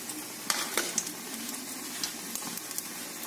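Shrimp fritters sizzle in oil in a kadai over a low gas flame, a soft, steady frying hiss with scattered small pops and crackles, heard close and alone.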